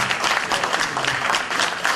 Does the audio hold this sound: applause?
yes